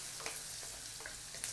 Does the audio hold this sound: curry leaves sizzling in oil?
yes